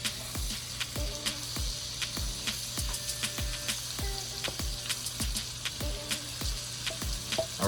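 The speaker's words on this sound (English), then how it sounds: "Sizzle, sizzle." Shrimp sizzle in melted butter and coconut oil in a pan, a steady close frying hiss broken by frequent sharp crackles and pops, with no talking.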